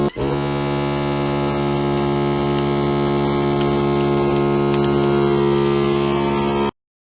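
A vacuum sealer runs continuously while sealing a box of fifty American Eagle 9mm 115gr FMJ rounds, a loud, steady motor hum with a dense, even drone that holds unchanged for several seconds before cutting off abruptly.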